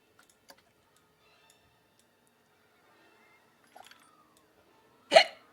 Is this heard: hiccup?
yes